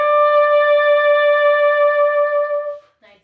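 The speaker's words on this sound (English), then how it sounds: "the vibrato note will have a little bit more of a vibration to it" Clarinet sustaining a single note with gentle vibrato, the tone pulsing slightly in loudness as it holds for nearly three seconds before stopping, followed by a brief soft noise.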